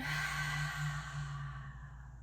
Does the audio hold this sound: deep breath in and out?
yes